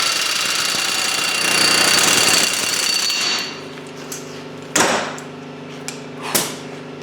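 A hammer knocks a corroded wheel bearing, stuck by aluminum corrosion, out of its housing in a driveway. A steady mechanical drone fades, then several sharp, ringing metallic blows land at uneven intervals.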